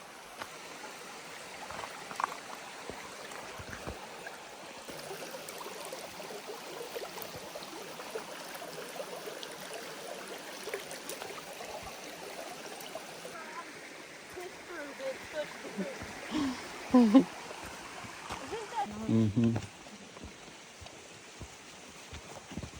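Stream water gurgles and rushes during a hiking water crossing, a low steady flow with louder splashes near the end as feet move through it, while people talk over it at times.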